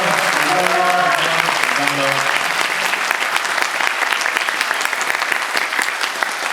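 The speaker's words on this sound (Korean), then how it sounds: "그 작품 만들어주신 감독님과 배우분들께 큰 박수를 부탁드립니다." A film-festival audience at a Busan International Film Festival guest visit gives the director and actors a loud, sustained round of applause. A voice speaks briefly at the start, and the clapping continues steadily.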